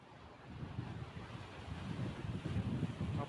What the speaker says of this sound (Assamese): কেনেকুৱা ডাঙৰ ডাঙৰ ঢৌ আহিছে দেখিছে